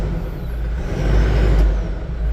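A diesel engine of the Toyota Rangga Concept idles close by after a key start, with a deep, steady rumble and a hissing, whirring layer on top, swelling slightly midway.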